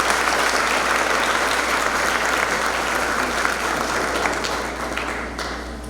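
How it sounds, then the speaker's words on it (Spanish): Steady, full applause from an audience greeting a speaker at a nursing event, a dense continuous wash of clapping that holds strong for several seconds before tapering slightly, with almost no talk. "La recibimos con un fuerte aplauso."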